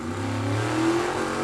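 A rear-engine dragster runs down the drag strip at a Super Pro bracket race, its engine a loud, steady drone that swells slightly in pitch and volume through the pass, with no voices over it.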